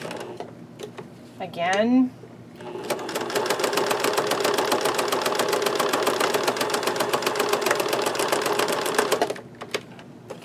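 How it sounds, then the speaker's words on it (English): A sewing machine runs in a long steady burst of rapid needle strokes while stitching a canvas journal cover, following a short whirring adjustment; a voice speaks briefly before it starts. "stop with the needle down, turn the corner"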